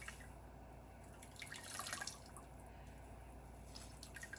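Water drips and trickles from a washed raw wool fleece being gently pressed and drained by hand, a soft continuous wet patter with small splashes, close and fairly quiet, no talk.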